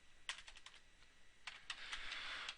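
Quick, uneven keystrokes tap on a computer keyboard while a network IP address is typed during router VLAN configuration, a burst of clicks then a denser run of typing, fairly close and quiet with no voice.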